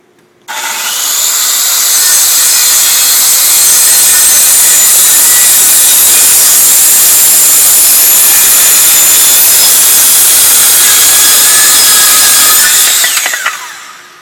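A circular saw cuts a compound miter, a plumb cut with a 45-degree bevel, through a wooden rafter, one loud continuous close-up whine lasting about thirteen seconds that spins up sharply and winds down, with no talk.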